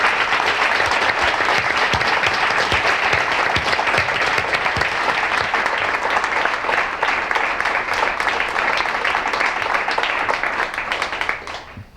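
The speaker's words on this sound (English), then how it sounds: "please make a round of applause for our amazing speakers" A large audience at a civic forum applauds the speakers, producing dense, loud, sustained clapping that holds steady for about twelve seconds and then quickly fades out at the end.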